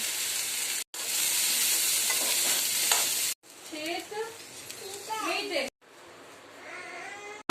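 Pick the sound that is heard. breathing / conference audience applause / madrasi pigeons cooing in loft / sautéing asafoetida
sautéing asafoetida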